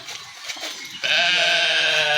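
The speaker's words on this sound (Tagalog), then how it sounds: "These are mountain goats." Mountain goats at a zoo bleating, a sustained, loud, wavering call that starts abruptly partway through over a murmur of background noise and carries on steadily to the end.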